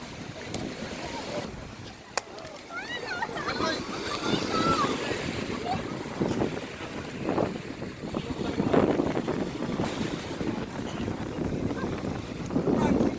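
Speedboat ride on open water during a reunion outing: continuous engine drone mixed with wind buffeting the microphone and splashing water, with people chatting and calling out over it throughout.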